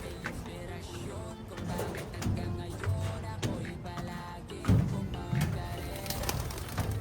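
Pigeons coo repeatedly in low, throaty bursts from a loft, with birds shuffling and other pigeon calls layered under a busy background.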